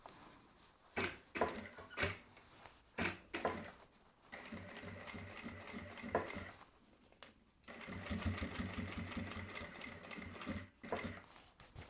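An industrial sewing machine stitches a curve in fabric, running in short bursts at first and then in longer continuous runs of rapid mechanical whirring, close and steady.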